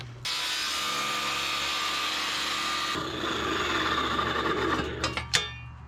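A larger cutoff wheel grinds steadily through a wrongly CNC-cut metal part, giving a continuous harsh, close whine that shifts partway through and ends with a few sharp scraping bursts.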